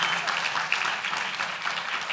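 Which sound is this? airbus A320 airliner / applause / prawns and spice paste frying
applause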